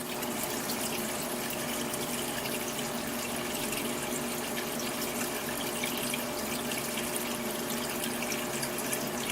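Water pouring into a film developing tank, a steady close rush of running liquid that continues evenly and uninterrupted.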